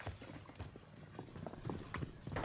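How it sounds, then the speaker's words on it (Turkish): Rapid footsteps from a Call of Duty Warzone match thud and scuff in an uneven running rhythm, close and fairly quiet, with no voices over them. "Ayak sesi."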